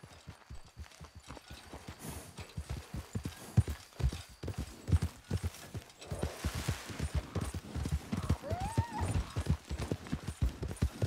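Hooves gallop in Red Dead Redemption 2, a fast, rhythmic drumming of a running horse, loud and close, with the beat briefly easing and then picking up again.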